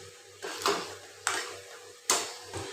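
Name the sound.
stirring catfish curry in a pot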